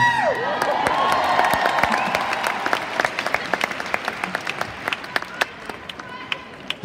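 A large concert crowd at Hartwall Arena applauds, with dense sustained clapping and scattered cheers and whoops that thin toward distinct individual claps.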